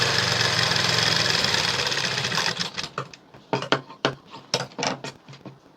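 Sewing machine stitching along the fold line of a high neck blouse, first a continuous fast whirring run, then a series of short uneven bursts of stitching.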